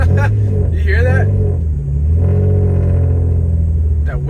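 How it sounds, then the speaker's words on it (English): A Jeep drives along with a steady engine rumble and road noise, a thin turbo-like whistle riding faintly above it while someone talks over the drive. "let me know if you can hear something that sounds like a turbo in this Jeep"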